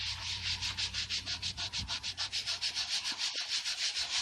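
Dry erase scrubber rubbed back and forth over marker on a wooden window frame, a close, rhythmic, raspy scrubbing with about four strokes per second, steady throughout.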